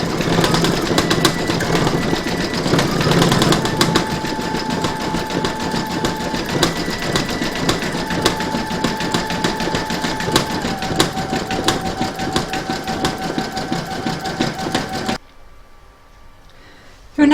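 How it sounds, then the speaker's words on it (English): Embroidery machine sewing a satin stitch around the edges of berries on a free-in-the-hoop Christmas pudding ornament, a steady close mechanical whirr with fast needle chatter running for about fifteen seconds before stopping abruptly. "You're now going to stitch round number 11, and that's going to do the satin stitch around the edge of the berries and then the top stitching afterwards."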